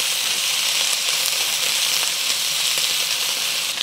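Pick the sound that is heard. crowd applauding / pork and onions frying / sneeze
pork and onions frying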